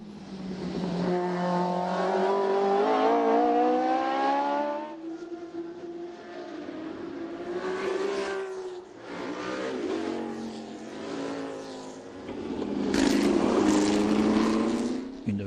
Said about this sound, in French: La plus rapide du plateau est cette Ligier JS3 de 1970.